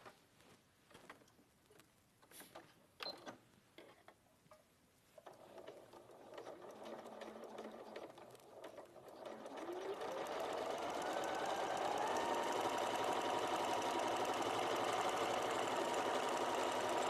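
A sewing machine runs steadily while stitching a quarter-inch seam along fabric edges, starting softly and building to a loud continuous whir that holds to the end, with light handling noises before it.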